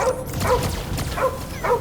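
Cosmo the dog, a space-suited dog in a Guardians of the Galaxy video game, gives three sharp, evenly spaced barks over about two seconds, loud and close, amid a steady backdrop of game ambience.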